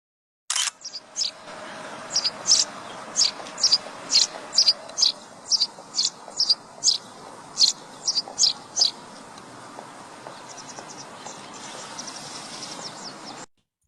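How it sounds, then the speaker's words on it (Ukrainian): A sparrow chirps in a steady series of sharp, repeated calls over a quiet outdoor background, close and clear for most of the stretch, thinning toward the end. "горобець."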